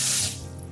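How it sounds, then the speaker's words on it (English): Cool tap water running steadily over freshly harvested spicy peppers in a sink, a close hissing splash that is loudest at first then settles into a softer stream, with no talking. "And now I'm just gonna rinse them all in cool water."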